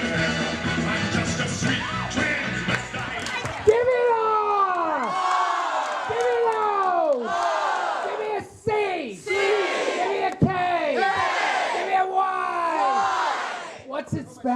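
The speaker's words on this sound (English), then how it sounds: "And for that, we need a round of applause because you wouldn't be here right now." A theater audience cheers, yells and whoops loudly in repeated swells of crowd noise at a tribute event, a dense roar that rises and falls near the microphone, with a voice calling out over it at times.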